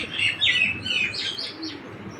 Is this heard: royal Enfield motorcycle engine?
no